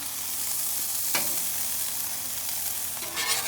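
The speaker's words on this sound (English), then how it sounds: "Get them in some of that bacon grease too." Burger buns sizzle face-down in bacon grease on a Blackstone griddle, a close, continuous crackling hiss with a few sharper spits and scrapes, no talking.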